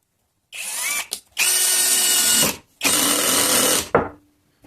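Einhell TE-CD 18/40 cordless screwdriver driving self-tapping screws, three loud close whirring bursts of about a second each separated by short pauses, with a clutch click near the end.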